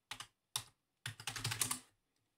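Fast bursts of typing on a computer keyboard as search words are entered into a web browser, three close, crisp clusters of keystrokes: two short ones, then a longer run, with no talking.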